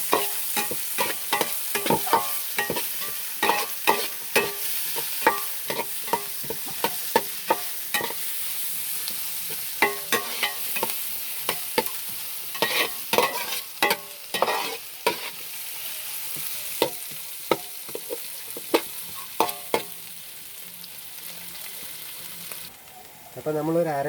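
Five green chillies stirred into a frying pan for chicken chukka sizzle steadily under frequent clicking, scraping strokes of a spoon against the pan, close and continuous throughout.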